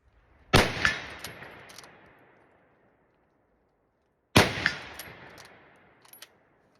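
Two loud, sharp rifle shots from an Enfield SMLE with malfunctioning cycling, spaced a few seconds apart, each followed by a long decaying echo and quick metallic bolt clacks.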